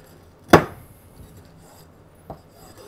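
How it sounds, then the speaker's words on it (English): A meat cleaver chops through a whole chicken, one heavy loud chop followed by a quieter second knock on the cutting board, the rest nearly silent. "Now I'm just going to take this meat cleaver and I'm simply just going to cut this in half."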